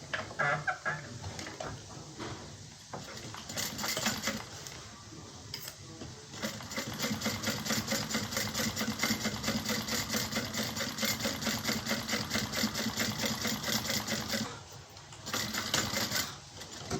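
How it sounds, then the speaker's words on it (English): A sewing machine topstitches a side panel seam, a steady fast-running whir that carries on almost the whole time with a couple of short pauses, close and fairly loud. "We'll top stitch this side."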